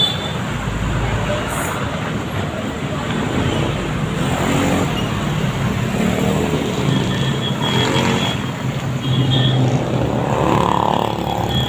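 Steady road traffic in the Philippines with cars passing along a busy road, a continuous loud rumble and whoosh of engines and tires heard close by from the roadside, with no clear speech.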